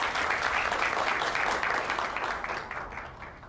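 An audience at a conference gives warm applause to welcome a speaker onto the stage, a dense, even burst of clapping that holds steady and slowly fades toward the end.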